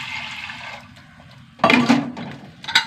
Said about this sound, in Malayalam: വെള്ളം ഒഴിച്ച് കൊടുക്കട്ടെ.